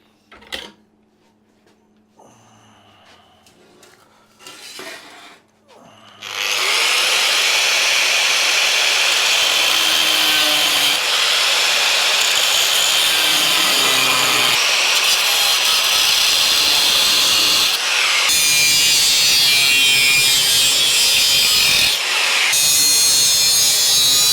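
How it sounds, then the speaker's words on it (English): An abrasive cutting wheel bites into a metal part for a bobber motorcycle, a loud continuous high grinding whine running for most of the stretch with a few brief pauses, after some quiet handling noises at the start. "Right, cutting wheel."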